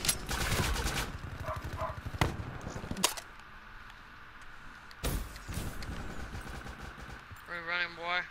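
Gunfire in Call of Duty Black Ops 3: loud bursts of rapid shots in the opening seconds, with separate sharp cracks near two, three and five seconds, and people talking between the volleys.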